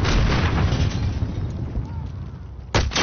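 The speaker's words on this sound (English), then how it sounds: "Setting explosive." An explosive goes off in the video game Call of Duty: Warzone as a loud, close, rumbling boom that decays over about two seconds, followed by a second sharp blast near the end.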